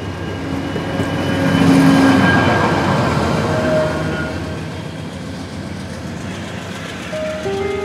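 A train runs through the Araku valley, its rolling wagons producing a loud, continuous rumble with rhythmic clickety-clack that swells early and then settles into a steady passing roar, with faint squeals above.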